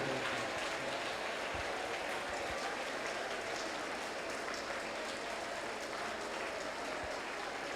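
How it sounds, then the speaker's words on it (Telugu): A congregation at a Telugu Christian prayer and anointing service claps in sustained, dense applause for several seconds, loud and continuous throughout. "చప్పట్లు కొడుతూ ప్రభువు నామాన్ని గొప్ప చేద్దాం"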